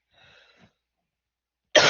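One abrupt, loud cough breaks in near the end after a faint, soft exhale-like sound and a long silence, close to the microphone.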